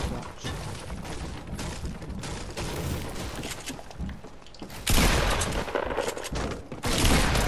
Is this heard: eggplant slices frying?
no